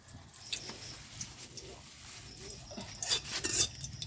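Chillies frying in a pan on a clay stove are stirred, giving a soft, continuous sizzle with light scraping and clinks, close but quiet, while a voice speaks faintly in the background.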